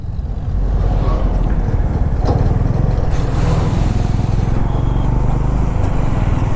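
A Honda H'ness CB350 motorcycle rides along at a steady pace, its low engine thrum continuous and close, with wind rush over the top.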